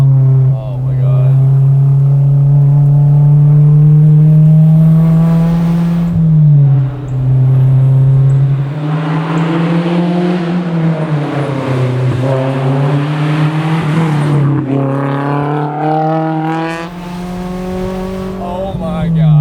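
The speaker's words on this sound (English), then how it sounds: "when you do go to rev match it, just give it a good boot and it'll be good" Honda S2000 AP2 track car with a naturally aspirated engine revving loudly from inside the cabin, pitch climbing and falling through several rev sweeps, with brief talk mixed in.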